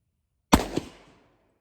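A single round of Palmetto State Armory AAC ammunition fired over a chronograph: one sharp, loud crack followed by a quick echo and a short fading tail, with no talking.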